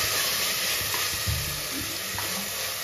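Ingredients for paneer biryani sizzle and fry steadily in a hot pan, a dense continuous hiss with occasional stirring scrapes, close and fairly loud with no talk.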